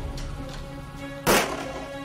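A single sharp gunshot effect bursts in a horror audio drama over a low ambient hum, loud and abrupt, then fading quickly.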